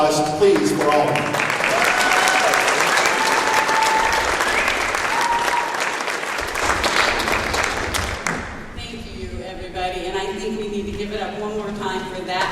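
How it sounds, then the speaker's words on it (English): Sustained applause from a forum audience for Alma Hasse, dense and steady for about eight seconds, then thinning out as a voice begins speaking over the last few claps. "A big round of applause, please, for Alma."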